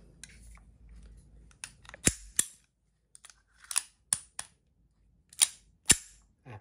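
A Kuzey M1911 blank pistol snaps sharply about six times, crisp loud cracks spaced irregularly over a quiet background with a few softer mechanical clicks between, close and with no voices.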